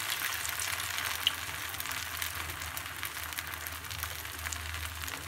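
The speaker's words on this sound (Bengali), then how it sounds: "আমার পেঁয়াজগুলো ভাজা হচ্ছে" Onion and flattened rice fritters fry in hot oil, giving a steady, dense sizzle with faint crackles at an even level and no talk.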